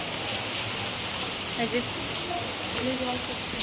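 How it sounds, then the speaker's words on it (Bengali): Heavy rain falls steadily outdoors near a railway route, a dense even hiss with occasional patters, while people talk nearby. "এদিকে বৃষ্টি নেমে গেছে, ভালো বৃষ্টি হচ্ছে দেখো।"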